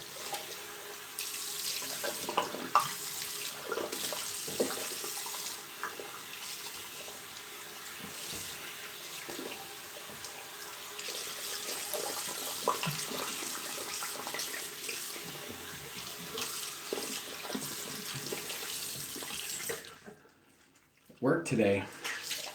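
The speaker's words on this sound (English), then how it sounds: "Let me rinse it off." Water runs steadily from a tap while someone rinses off after shaving, a continuous splashing hiss that breaks off near the end.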